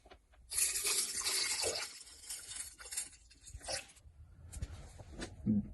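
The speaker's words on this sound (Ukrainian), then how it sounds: "додаю дистильовану воду, щоб реакція проходила не так бурно" Distilled water is poured into a laboratory glass beaker holding metal component casings, a faint, close splashing trickle with a few irregular drips and bursts.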